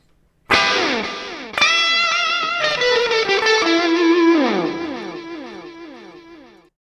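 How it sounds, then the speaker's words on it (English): Distorted electric guitar run through stock reverb and delay plugins in Reaper: a single struck chord, then a second chord and a melodic run of notes whose echoes and long reverb tails ring out and smear together, loud and alone. "And this is what it sounds like with the reverb and delay."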